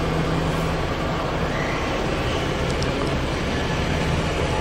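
Kitamura MyCenter HX1000i 5-axis horizontal machining center spindle running up to about 2,000 RPM: a loud, dense, unbroken mechanical roar with a faint low hum, close and steady throughout, no speech.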